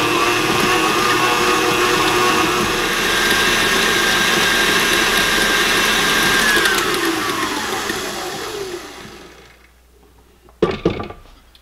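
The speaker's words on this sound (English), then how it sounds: "So I start out with just the cream cheese and let it mix for a few minutes." Electric mixer beating cream cheese for a dessert, a steady loud whirring motor drone that winds down and stops near the end, followed by a couple of knocks against the bowl.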